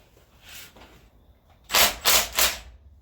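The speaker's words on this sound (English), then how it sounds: "you can just do these with a gun to loosen it" A pneumatic impact gun cracks loose bolts on a D4CB engine during a rebuild, firing three loud, close rattling bursts in quick succession after a quieter stretch.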